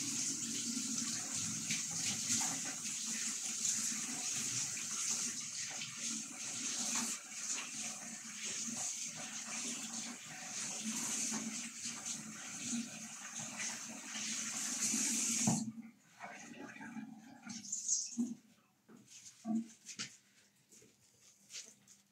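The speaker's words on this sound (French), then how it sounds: "Je vais rincer ça." Tap water runs steadily onto a paintbrush being rinsed, then cuts off abruptly, leaving a few faint drips and handling clatters in a quiet room.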